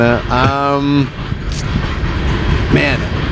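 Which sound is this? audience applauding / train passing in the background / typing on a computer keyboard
train passing in the background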